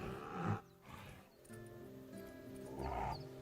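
Tigers in the zoo game Planet Zoo give faint, low rumbling growls in a few uneven bursts over quiet background sound.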